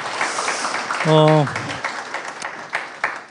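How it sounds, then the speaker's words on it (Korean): A public lecture audience applauds with a steady, moderately loud patter of many hands, and a voice briefly speaks over the clapping. "박수 주시면 좋을 것 같고요"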